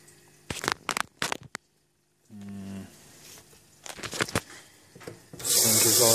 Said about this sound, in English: I'm going to add some water real quick.